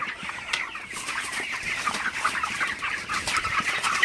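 A flock of 31-day-old broiler chickens, just fed at night, clucks continuously, many soft overlapping calls close by, with no talking.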